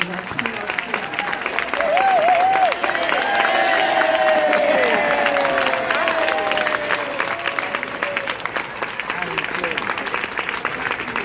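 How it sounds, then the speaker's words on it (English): An audience at a 40-year high school class reunion applauds steadily to welcome a classmate to the stage, a dense wash of clapping with a voice heard over it early on. "Please give a round of applause to welcome our classmate"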